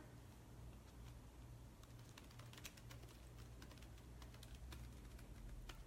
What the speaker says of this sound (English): I'm just typing right now.